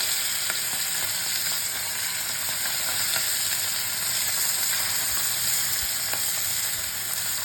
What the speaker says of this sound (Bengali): আজকে মোরলা মাছ আর এই আলু ভাজবো